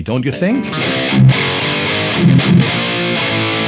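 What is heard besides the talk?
Marshall Valvestate guitar amp distortion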